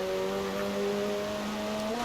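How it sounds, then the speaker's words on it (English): The McLaren 720S Spider in Forza Horizon 4 holds a steady, droning engine note with sustained tonal harmonics. Distinct exhaust pops are not clearly separable in the continuous roar. "it was just like popcorn almost coming out of the exhaust, just kept throwing fire out"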